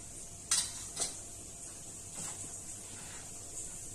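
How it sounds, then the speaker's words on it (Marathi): Mustard seeds and cumin crackle in hot oil while tempering a homemade brinjal bharit, as a quiet, close sizzle with a couple of sharp pops and clinks early on, then a low hiss. "थोडीशी मोहरी टाकायची आणि थोडंसं जिरं टाकायचे."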